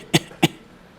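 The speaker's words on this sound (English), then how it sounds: "I made this fake cough" Two short, sharp fake coughs from one person, about a quarter second apart and close up, performed as a stage distraction during a card trick, with quiet room tone after.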